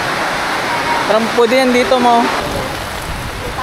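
Heavy rain pours steadily during a harvest while the sun still shines, a dense constant hiss all through, with a person speaking briefly over it midway.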